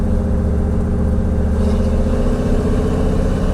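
A steady, loud V8 engine of a Ford truck with an FE 390 idling close by, with an even low rumble and no other sounds.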